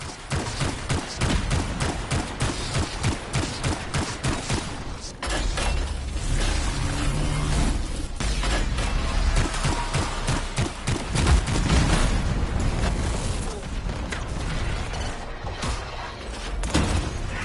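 Rapid turret gunfire in the Anthem video game, a dense, loud stream of shots and mechanical impacts running almost continuously without pause.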